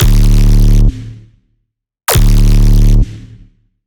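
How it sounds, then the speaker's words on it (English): A loud, deep synthesized sub bass note in D, with group processing for tearout dubstep, plays twice, each held for about a second with a brief buzzy tail, separated by a short silence. "This is what the sub sounds like."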